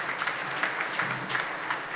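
An audience claps to welcome a guest at a Thursday Thoughts gathering, a steady, fairly even wash of many hands with slight pulsing swells, heard from some distance without talk.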